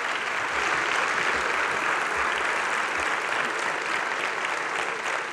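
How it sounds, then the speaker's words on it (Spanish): An audience at a stand-up comedy show applauds Fernando and Sebastián, a dense, steady wash of clapping that holds loud and even throughout. "aplauso para Fernando y Sebastián."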